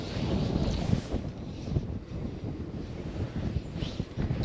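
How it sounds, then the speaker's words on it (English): Strong wind buffets the microphone during winter fly fishing, a steady low rumbling roar with gusty swells throughout and no voices. "The wind is really strong."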